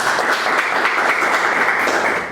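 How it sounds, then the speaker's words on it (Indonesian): Classroom applause for a student group that just finished presenting, steady dense clapping from many hands filling the room throughout, tapering slightly at the end. "kasih tepuk tangan sekali lagi untuk kelompok Dividing Head"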